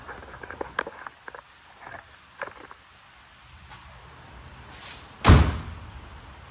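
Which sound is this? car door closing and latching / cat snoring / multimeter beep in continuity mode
car door closing and latching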